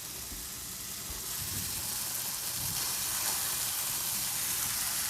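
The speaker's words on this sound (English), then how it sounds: "We're going to give these a good little sear" Salisbury steak patties searing in a hot pan, giving a dense, even hiss of sizzling fat that swells slightly after a second and then holds steady up close.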